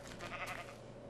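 A sheep bleats in the Minecraft video game, a single short, wavering bleat heard close and clear with no voices.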